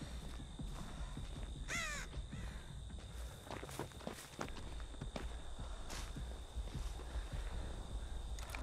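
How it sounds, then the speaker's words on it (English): Crows caw in a survival video game, several harsh calls rising above a steady ambient bed alongside footstep-like crunches and clops, with no talk. "That's why I saw crows over there!"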